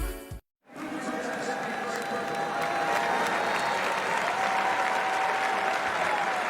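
A college football stadium crowd at an Iowa State versus Ohio game, breaking into sustained loud applause and cheering after a short silence, with a broadcast voice talking over the roar.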